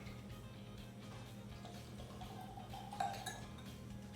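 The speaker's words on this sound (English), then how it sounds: "Strong pour" Bourbon pouring into a glass with a faint trickle and light clinks of glassware, quiet and close over a low background hum.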